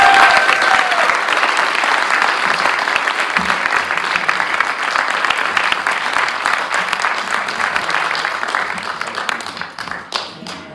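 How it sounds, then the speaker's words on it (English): Storytelling event audience giving a big round of applause, loud sustained clapping from many hands that tapers off toward the end. "So please give a big round of applause for a man who has survived decades of partnership"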